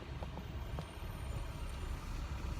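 Garbage truck passing on a street, a steady low diesel rumble with faint hisses and clanks, moderately close and continuous throughout with no voices.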